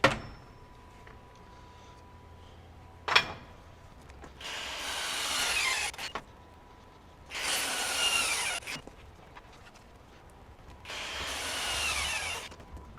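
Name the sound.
Hercules HCB85B brushless impact wrench tightening a bolt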